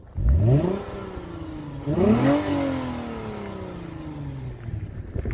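A Lexus IS250 with an Invidia Q300 exhaust revs hard twice, the exhaust note rising sharply each time before falling back to a rumbling idle.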